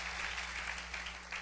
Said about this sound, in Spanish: Dale otro aplauso al Rey bendito.